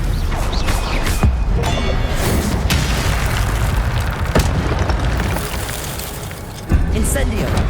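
A Stupefy spell is cast in Hogwarts Legacy during a fight with guards, heard as dense booming blasts and sharp impacts over a busy game soundscape, with a voice speaking over the action.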